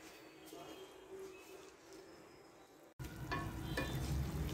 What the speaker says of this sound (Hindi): अब यहाँ पे हम इन सारी चीज़ों को अच्छी तरह मिक्स करेंगे और 4 से 5 मिनट के लिए हम इनकी भुनाई